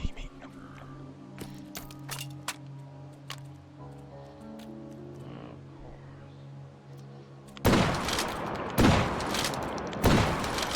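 Gunfire from a video game, a few sharp loud pistol shots bursting out near the end after a stretch of quieter ambient game sound.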